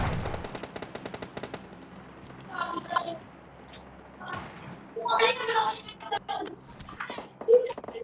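Bursts of automatic rifle fire from a 47 assault rifle in PUBG Mobile Lite, rapid rattling volleys that come and go over several seconds, fairly close, with the game's ambient background between them.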